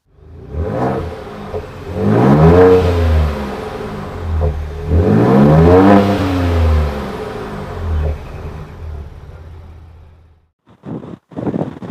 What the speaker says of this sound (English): we also have the twin tailpipe exhaust on either side. Sounds very good.